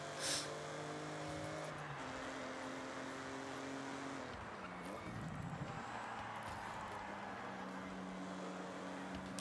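Car driving in Forza Horizon, a steady engine drone with shifting pitch and gear changes, fairly close and continuous, with a faint voice in the background.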